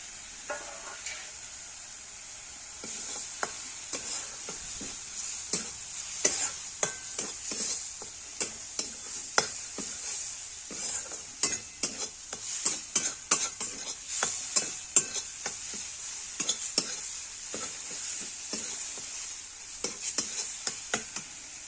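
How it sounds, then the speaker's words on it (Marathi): Masala for salted bitter gourd roasting in a pan, heard as a soft continuous sizzle under repeated scraping and clinking strokes of a spoon stirring against the metal, close and irregular throughout. "बघा झाला मसाला भाजून"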